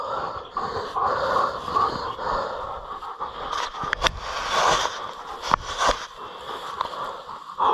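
A working dog in sugar cane pants hard and snorts close by, rapid rough breathing puffs running continuously with a few sharper snuffs and rustles.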